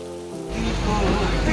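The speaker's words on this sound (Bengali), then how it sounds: "সেদিনকে বৃষ্টি হচ্ছে।" Rain falls steadily in the Sundarbans, a soft broadband patter that swells and stays loud after a quieter opening, with no one talking.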